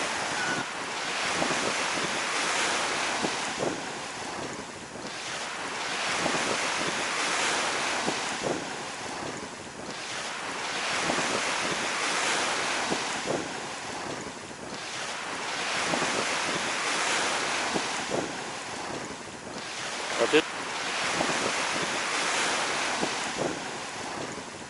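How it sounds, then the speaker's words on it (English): Ocean surf rolling in on Treasure Island Beach, Florida, in steady swelling washes every few seconds, with wind buffeting the microphone throughout and no talking. "there's a little bit of waves over here"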